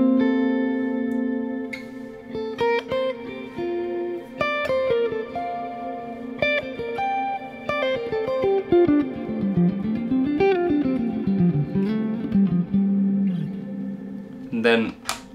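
Electric guitar notes and chords played through a Fractal Audio FM3 ring out with a wash of reverb, sustained tones blurring into one another, ending with a brighter strum.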